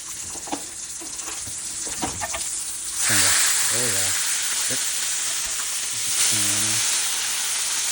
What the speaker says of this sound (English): you'll see cooking this bacon kind of hot today